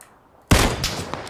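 Gunfire in the PUBG Battlegrounds video game bursts in after a moment of near silence: a sharp, loud volley with a few trailing cracks.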